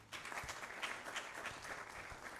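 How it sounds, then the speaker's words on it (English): An audience at a waste management conference claps steadily and fairly evenly throughout, a dense, faint round of applause from a hall with no voices on top. "Let's give him another round of applause."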